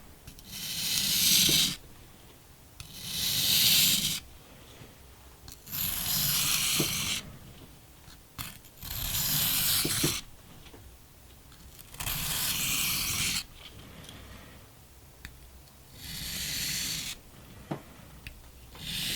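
A kitchen knife sharpened on a whetstone from a basic set with 180, 600, 1000 and 3000 grits, repeated close gritty strokes in a slow regular rhythm, each lasting about a second with short pauses between.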